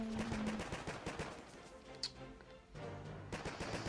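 Rapid bursts of machine-gun-like gunfire rattle through a Boom Beach mobile strategy battle, dense and continuous over game music and effects, moderately loud throughout.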